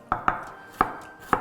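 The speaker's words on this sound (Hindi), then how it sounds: "प्याज तैयार, यूं पतला पतला काटना है इसे" A knife chops onion thinly on a cutting board, making four crisp, close knocks at an uneven pace with no talk.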